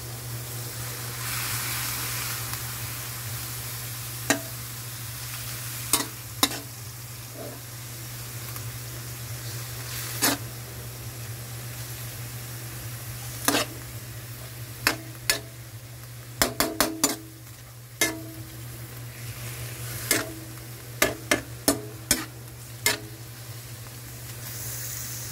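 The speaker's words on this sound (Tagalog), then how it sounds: "Haluin lang po natin guys para hindi siya masunog at pantay ang kanyang pagkaluto." Filipino-style caldereta sizzling steadily in a pan while being stirred, with scattered sharp clinks and scrapes of the utensil against the metal over a constant hiss and low hum, no voices.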